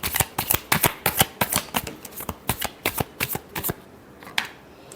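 Tarot cards being shuffled by hand, a rapid run of crisp riffling snaps in a quick uneven rhythm, close and clear, tapering off near the end.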